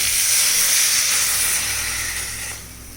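Loud steamy hiss from half a tumbler of water poured into a hot pan of fried mustard seeds, strong at first and gradually dying down over a few seconds.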